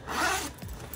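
A bag zipper runs in one quick rasping pull, then a shorter follow-up tug, close and clear with no voices.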